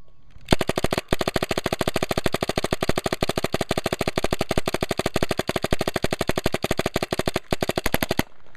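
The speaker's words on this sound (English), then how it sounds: "here's Matt shooting his classic JT Tetra blowback paint war gun" A JT Tetra blowback paintball gun with a rotor loader fires a long, fast, unbroken string of sharp shots, close and loud, with a brief gap near the start and another near the end.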